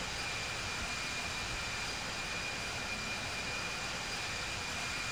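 Airplane engine roaring steadily at 89% throttle during a climb in the Infinite Flight flight-sim game: a constant, loud, broadband drone with a faint high whine, unbroken and free of voices.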